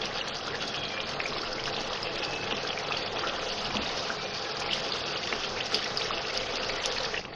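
Masala sizzling and frying steadily in a pan while being roasted for a dhaba-style aloo matar sabzi, a continuous dense hiss with no talk over it.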